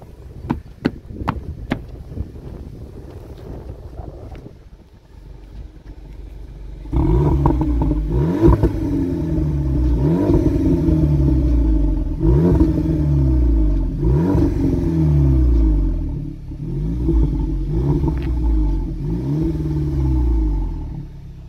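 An Iveco Daily van's engine and stock exhaust outside, first a few sharp clacks, then the engine fires into a rumbling idle with repeated revs rising and falling, loud and close.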